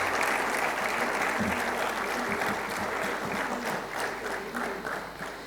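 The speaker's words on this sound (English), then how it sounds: "Let's give all our honored guests one more big round of applause" An audience at an international training programme ceremony gives honored guests a sustained round of applause, a loud, dense wash of clapping that thins slightly toward the end.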